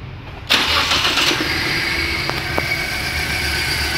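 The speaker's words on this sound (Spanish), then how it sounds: "Procedimos con la prueba de arranque del motor para ver el funcionamiento de esta en el cilindro número 2." A K14B car engine cranks and catches, then runs steadily with a broadband roar and a few small irregular bumps in its note, loud and close with no talking.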